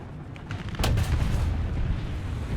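A tank gun firing in War Thunder, one heavy booming blast that hits suddenly and then rolls on as a low rumbling tail, loud and close with no voices over it.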